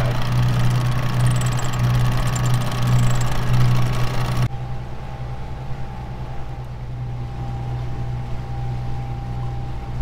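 A sailboat's inboard engine runs at 2000 RPM with a steady, low, droning hum under way. Wind and water noise fill the background, then drop away partway through while the engine keeps droning evenly.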